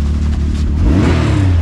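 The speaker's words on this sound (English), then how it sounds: "Turbo 3-cylinder sounds pretty good too." The turbocharged three-cylinder engine of a 2023 Can-Am Maverick X3 X RS Turbo RR side-by-side revs up loudly and close during off-road driving. The brief, rising growl is accompanied by rumbling and clatter.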